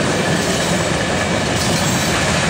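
CSX freight train hauled by an AC4400 and a Dash 8 locomotive climbing a grade on the Charlotte Subdivision, giving a steady, loud rumble of rolling railcars with clattering wheels and no voices.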